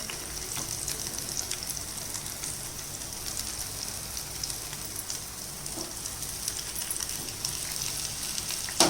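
Four tomatoes sautéing in hot oil give a continuous, even crackling sizzle that sounds almost like light rain, close and steady throughout with no talk.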